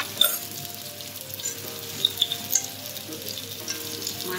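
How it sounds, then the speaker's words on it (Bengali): Tangra fish frying in mustard oil in a kadai, a steady close sizzle with scattered sharp pops and crackles throughout. "সর্ষের তেল দিয়ে এটা রান্না করব পুরোটা। মাছটা ভেজে তুলব।"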